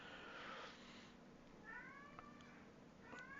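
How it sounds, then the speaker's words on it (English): A cat named Firefly, a new addition to the household, meows loudly in drawn-out, wavering calls, two or three separate yowls over a steady background hum. "one of my cats is hollering"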